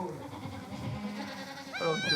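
Goats on a Corsican farm murmur and low-bleat in the background before one animal breaks into a clear, trembling bleat near the end, loud and close.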